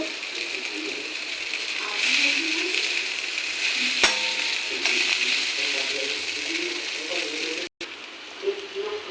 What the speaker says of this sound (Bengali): এখন সব কিছু মিশিয়ে নেব ডিমের ঝুড়ি করে রেখেছি ওগুলা দিয়ে দেবো